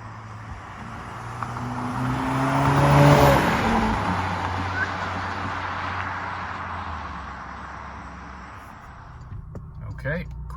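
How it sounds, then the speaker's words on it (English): A Porsche Macan fitted with a Flat 6 Motorsports intake accelerates hard, the engine note rising and peaking around three seconds before easing into a fading cruise, recorded close from inside the car. "quick acceleration test with the new intake"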